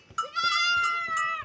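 A sick young goat kid on a small farm gives a single loud, drawn-out, wavering bleat, close by and with no voices over it.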